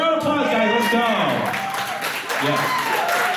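An audience at an anime convention game show applauds with scattered claps and cheers, while a voice talks over the crowd throughout.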